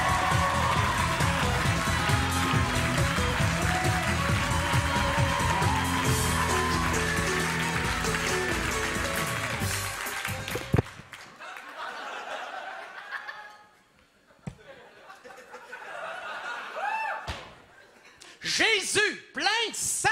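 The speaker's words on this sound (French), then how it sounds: "On l'applaudit." Comedy club audience in Montréal laughing and applauding as a comedian comes on, dense crowd noise for about ten seconds, then dropping away to sparse chuckles and someone talking.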